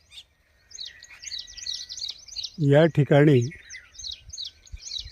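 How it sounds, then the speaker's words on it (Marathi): Sparrows chirp busily in trees along the edge of a farm field, a steady run of quick, bright calls. Someone speaks briefly over them in the middle. "हा बघा चिमण्यांचा चिवचिवाट."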